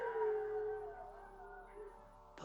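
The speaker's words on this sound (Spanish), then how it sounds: "los perros empezaron de nuevo a aullar" Dogs howl in long, wavering tones that slowly fade, heard at a distance outdoors at night, alone without talk.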